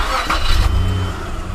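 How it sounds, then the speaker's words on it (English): A Toyota truck engine cranks and catches, settling into a low steady idle, close and fairly loud. "Jay, would you mind to kind of start the truck"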